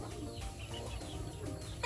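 Backyard chickens, including a hen, cluck softly and steadily on a small farm, with a constant low ambient murmur underneath and no talking.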